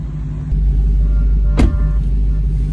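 A Dodge Hellcat's engine rumbles deep and low from inside the car at a Dodge Power Party event. The throbbing idle steps up slightly partway through, with a brief knock or thump over it.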